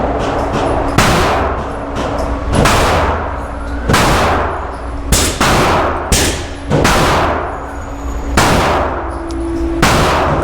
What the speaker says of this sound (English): Some slow, controlled shots.